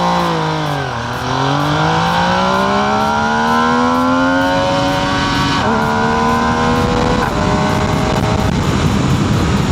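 A 2025 MV Agusta Brutale 800R motorcycle engine revs up hard from a standstill, pitch climbing steadily through gears with a brief shift, loud and close throughout.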